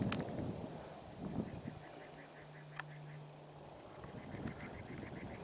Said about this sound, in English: Birds are chirping today.